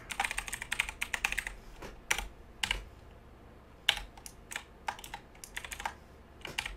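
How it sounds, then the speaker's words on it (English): Keys clatter on a computer keyboard as code is entered, in uneven bursts of close, crisp clicks with short pauses between runs, quiet and without talk. "So let's type it out again."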